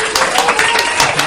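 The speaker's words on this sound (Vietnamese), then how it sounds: "Một tràng pháo tay dành cho bạn Sang" Applause for Sang in the middle of a Vietnamese spicy noodle eating challenge, a dense burst of clapping with crowd noise running the full length and no pauses.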